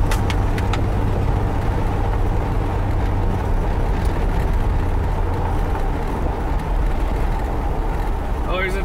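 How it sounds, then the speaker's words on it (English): A 1975 Corvette C3 convertible rolls along a rough, crappy road, its steady engine and tire rumble filling the cabin with continuous low-end road noise; faint wind and rattle ride on top, with no talk heard. "The car steering is nice. It tracks really straight for a crappy road like this."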